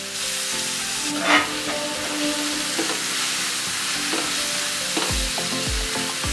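Two medium onions, finely chopped, fry with half a teaspoon of jeera, a bright continuous sizzle close at hand, broken by stirring and scraping knocks from a utensil in the pan.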